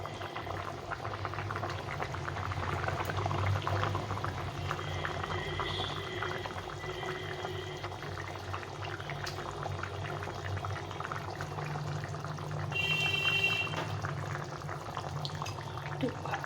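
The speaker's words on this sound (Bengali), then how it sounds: "ঝোলটাকে ভালো করে ফুটিয়ে নিতে হবে। ঝোলটা ভালোভাবে ফুটে গেছে" A thin curry broth bubbles at a steady rolling boil in a pot, close and continuous, with a brief metallic clatter partway through and a louder swell near the end.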